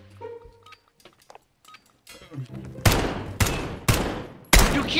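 Gunfire in the Call of Duty video game: after a quieter stretch of small game sounds, several loud sharp shots ring out in quick succession, each with a ringing tail.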